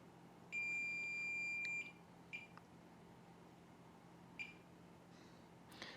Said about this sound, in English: Some of these are going to be low resistance lines, so they'll beep even though they're not necessarily short.